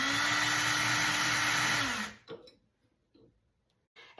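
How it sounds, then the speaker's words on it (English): A wood-and-metal drill bit grinds through a thrift-store metal spoon, a steady close whine for about two seconds that winds down and stops, followed by a few faint handling knocks. "it doesn't take very long to get through this spoon."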